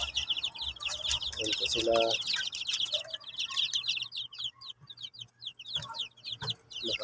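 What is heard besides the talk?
Shamo chicken chicks chirping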